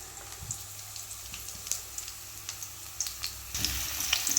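Onion sizzles in a pan of hot oil, a quiet crackling fry with scattered pops that grows a little louder toward the end.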